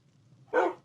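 A single short dog bark from the Minecraft video game rings out clearly over a faint low background hum, with no voices.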